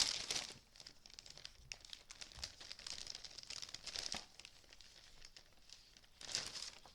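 Sheets of designer paper for Stampin' Up! card making being handled at close range, a quiet, continuous crinkle and rustle with sharper crackles scattered throughout and brief louder bursts near the start and end.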